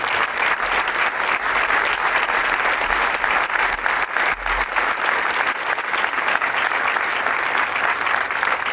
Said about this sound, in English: please join me in a round of applause for these great Bastogne soldiers.